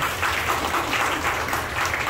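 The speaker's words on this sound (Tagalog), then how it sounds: "Isa pang palakpak para sa Panginoon." A church congregation applauds in a steady, dense wash of clapping that stays even in level for the whole stretch, with no voices rising above it.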